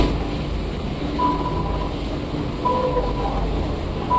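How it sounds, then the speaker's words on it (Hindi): A Delhi Metro train rolls and runs with a steady low rumble and broadband rush, heard from inside or on the platform, with faint tonal chimes or brake whines cutting in now and then. "ये वाली हमारी मेट्रो आ गई है"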